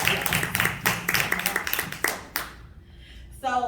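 Audience applause at a women's empowerment seminar: a burst of mixed clapping from a room of people that fades out after about two and a half seconds, followed by a brief moment of quiet.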